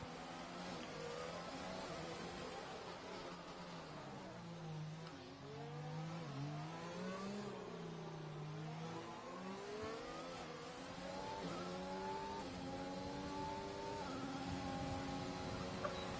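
Race cars in a Monaco GP racing video game roar through the street circuit, several engines overlapping with rising and falling revs and gear changes, a steady loud drone from start to end.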